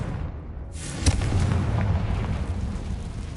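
A Confringo blasting spell in the video game Hogwarts Legacy lands with a sharp explosive boom, then a rumbling roar that lingers and slowly fades.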